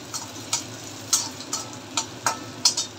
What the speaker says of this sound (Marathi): याला पण फ्राय करून घेऊया।